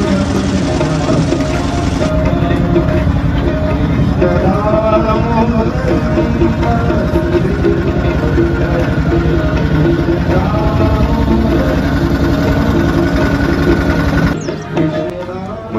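Motorboat engine running steadily on the Ganges river at sunset, a continuous loud drone that cuts off near the end, with voices talking over it.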